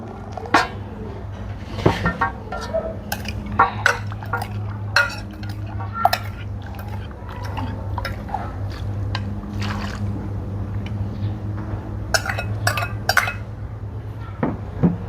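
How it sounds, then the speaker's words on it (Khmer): Clinks and scrapes from a utensil stirring salt into hot water in a pot, making brine for Khmer pickled sesbania flowers. Scattered sharp taps ring out close over a steady low hum. "ដាក់ឲ្យវារលាយអំបិលឲ្យបានសព្វ"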